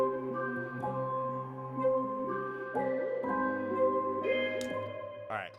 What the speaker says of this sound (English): This pad came from the Lexicon 2 preset bank from Ambient Pad